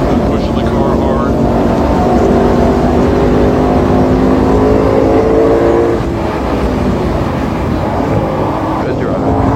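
A race car engine is driven hard, a loud sustained high-revving roar with shifting pitch heard from inside the car, with a voice speaking over it.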